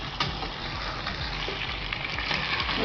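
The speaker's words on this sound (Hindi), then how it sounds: "इसको 2 मिनट तक फ्राई करेंगे।" Chicken pieces frying in a pan for a biryani, a dense, loud, steady sizzle with faint stirring scrapes throughout the short stretch, no talking.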